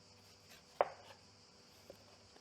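A single sharp knife cut into a quartered apple while its core is removed, quiet and close, followed by a couple of faint softer taps.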